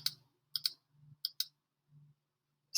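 Mouse clicks at a computer desk, a few sharp single and double clicks spaced irregularly across a couple of seconds, close and crisp, with a faint low hum between them.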